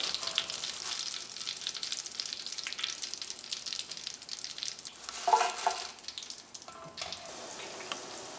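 Raw banana slices fry in hot oil for Kerala-style banana chips with a steady, bright crackling hiss that swells briefly midway, heard close up.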